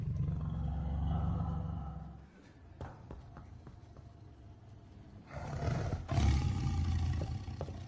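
A tiger lets out deep, rumbling roars that rise and fall, with a louder burst near the end and a quieter stretch in between, fairly close and without speech.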